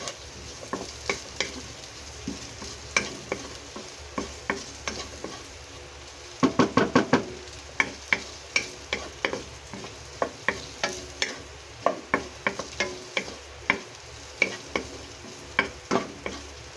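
Squid balls fry in hot oil with a steady soft sizzle, broken by frequent close clicks and taps of stirring, including a quick cluster of knocks midway; no one speaks.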